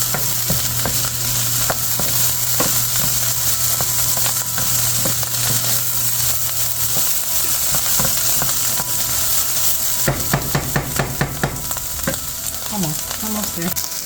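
Zucchini fritter mixture sautéing in a pan, with a steady close sizzle under scraping stirs and a run of sharp utensil taps toward the end, no voices.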